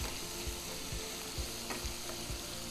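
A stuffed chicken breast fries in a pan, giving a dense, steady sizzle with faint crackles and occasional scraping, loud and continuous with no talk.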